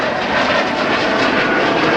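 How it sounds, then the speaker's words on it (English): MS760 Paris four-seat jets roar past at the 2010 NAS Oceana airshow, a loud, continuous broadband engine rush that holds steady throughout with no voices. "And there they go, split. Snort's off to the left, Jive is off to the right."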